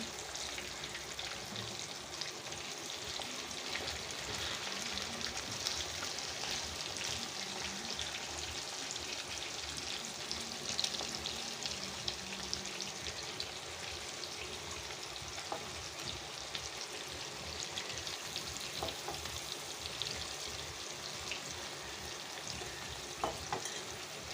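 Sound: fish frying in a pan

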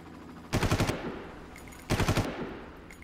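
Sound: gunfire and helicopter in video game Far Cry

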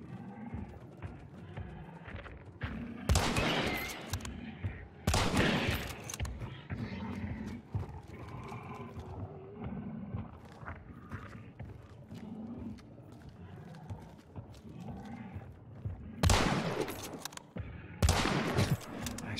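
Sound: gunshots from the video game Hunt: Showdown

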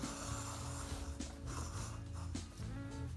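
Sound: hand-driven generator motor turning to light LED bulb

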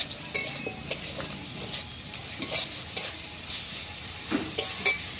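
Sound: stirring tomato into a frying pan

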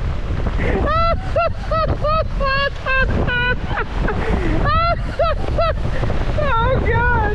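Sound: strong wind blowing at Oregon Inlet while fishing

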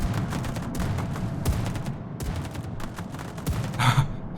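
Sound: anti-aircraft gunfire from the video game World of Warships

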